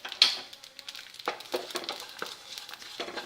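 Onion and spices frying in a pan for kathirikai kulambu, a soft crackling sizzle with scattered pops and light stirring scrapes, fairly quiet and close.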